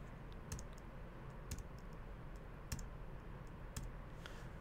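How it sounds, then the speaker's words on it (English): Several sharp, light clicks from a computer keyboard key are spread over a few seconds, close but quiet against a soft background hiss. "So now if I hit the backslash key on my keyboard"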